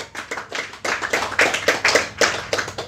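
An audience claps in a loose, uneven burst, giving a run of distinct sharp hand slaps that rise and fall in loudness and sound fairly close.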